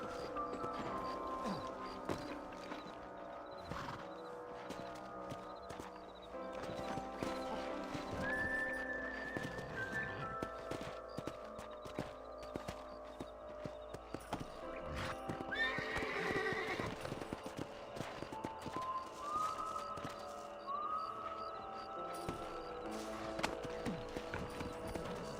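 In the Red Dead Redemption video game, horses whinny repeatedly over the steady clip-clop of galloping hooves, with no voices and rough outdoor ambience underneath.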